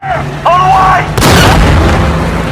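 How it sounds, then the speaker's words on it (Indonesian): A Tiger tank cannon fires in a World War II war film, a single loud, broadband boom that slams in at once and rolls on, following a short stretch of faint film dialogue and tones. "Setelah bidikannya sudah tepat, Don langsung menyuruh menembak."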